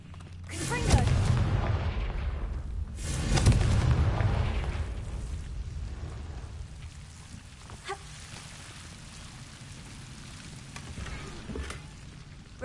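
Confringo blasting spell in Hogwarts Legacy bursts twice in quick succession, deep booming explosions with rumbling decay, followed by quieter crackles and faint later pops.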